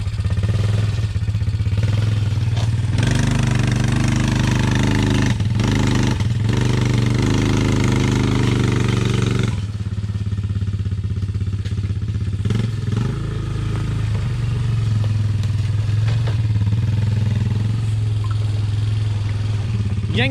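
A Kawasaki SX650 stand-up jet ski engine is cranked and roars loudly and continuously up close, with a rough clattering tone that shifts in character partway through.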